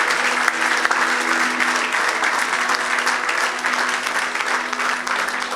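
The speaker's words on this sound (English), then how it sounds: "Let's give him a big round of applause." An audience claps loudly and steadily in a hall, a dense, sustained wave of applause with no voices rising above it.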